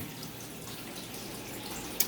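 A pump draws water from an aquarium sump up into an aquaponics grow bed, producing a soft continuous trickle and flow, quiet and steady, with a brief knock near the end.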